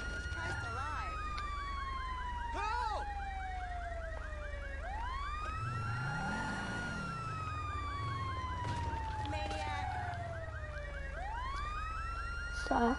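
Video game ambulance siren wailing in long, repeating rising and falling sweeps, loud and continuous over a low engine-like rumble, with a person talking faintly underneath.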